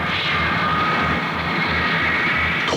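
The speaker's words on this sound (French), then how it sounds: "envoyer progressivement la puissance des moteurs" Airliner engines roar steadily and loudly as power is gradually increased before takeoff, a constant throbbing drone with a rising whine, close by and without speech.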